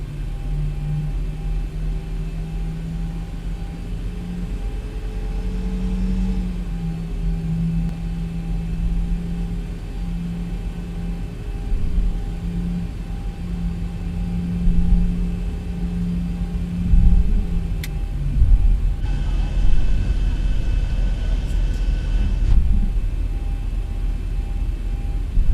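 A Ryanair airliner taxiing in a flight simulator game gives a steady, droning engine hum with faint whining tones. The sound stays fairly even and shifts slightly near the end, with no talking.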